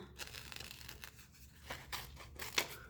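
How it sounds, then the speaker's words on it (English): Scissors snip through paper for a penguin collage in a quiet room: a series of close, crisp cuts and rustles in an uneven rhythm, with one sharper snip near the end and no talking. "I'm going to cut around both pieces first"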